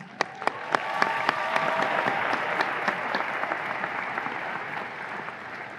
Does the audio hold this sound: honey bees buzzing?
no